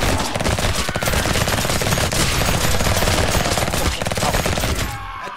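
Turret in the video game Revulsion firing a rapid, sustained stream of loud gunshots for several seconds before cutting off.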